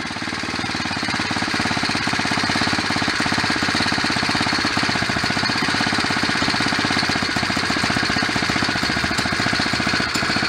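A small four-stroke string trimmer engine, salvaged from the dump, idles slowly with a steady rapid chugging putter, close and constant throughout, no voices.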